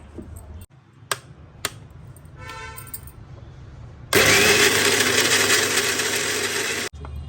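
A kitchen mixer grinder blending salted ingredients roars loudly for about three seconds. It cuts in abruptly after quiet handling clatter and a few clicks, then stops sharply.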